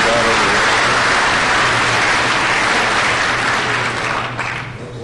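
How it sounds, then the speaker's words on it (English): A city council chamber audience applauds entrepreneurs with sustained, dense clapping that holds strong for several seconds, then begins to thin and fade near the end. "let's give a big round of applause to these entrepreneurs who are creating jobs in our city"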